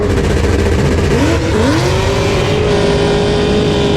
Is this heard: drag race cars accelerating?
yes